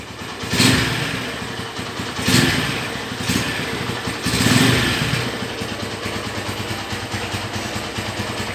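A red 2011 Honda Tiger Revo special edition motorcycle engine idles steadily nearby, with several short revving bursts rising and falling over the constant rumble; no one speaks.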